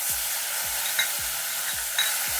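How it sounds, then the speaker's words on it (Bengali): Green chilli, ginger and cumin paste frying with tomatoes in a pan, a steady close sizzle with four regular scrapes of a spatula stirring at about half-second intervals. "এগুলো একটু ভালো করে ভেজে নিচ্ছি।"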